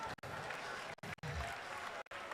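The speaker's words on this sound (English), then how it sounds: "Please, a round of applause to him." Applause from the audience at a national science and maths quiz grand finale in Ghana, a steady broadband patter broken by several brief dropouts, fairly faint and distant.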